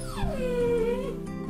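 A cartoon dog in an animated folk tale whimpers after being struck, giving one close, loud, falling whine that trails into a soft whimper.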